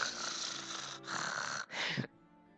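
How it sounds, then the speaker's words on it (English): Snoring from a sleeping character in the video game Period Cube, three drawn-out rasping snores in a row, the last one shorter, then quiet. "Snoring."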